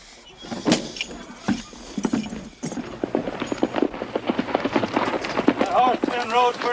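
Horse hooves clip-clop in a steady, close rhythm on a western frontier trail, running under and between a man's spoken lines, with a few jingling high accents near the end.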